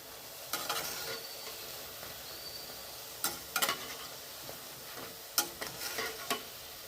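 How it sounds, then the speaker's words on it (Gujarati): Vanela gathiya fry in oil over a low flame, a soft, steady sizzle heard close. A few brief bursts of stirring clatter break in now and then, with no voices. "આપણે જ્યારે ગાંઠિયા તળીએ ત્યારે ગેસ ધીમો રાખવો,"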